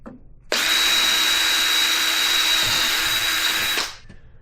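A power drill set to low torque drives short quarter-inch screws into a rat bait station, running in one loud, steady burst of about three seconds with no talk.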